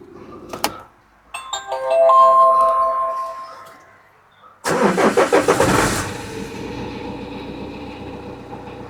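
A van's engine starts after a timing belt replacement: electronic chimes sound first, then the starter cranks in a few quick bursts, the engine catches and settles into a steady, close idle.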